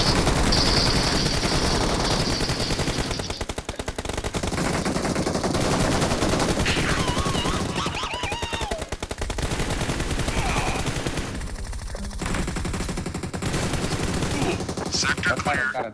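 Dense, rapid gunfire from a squad-based shooter video game, with bursts and automatic fire nearly continuous throughout and voices talking intermittently over the shooting.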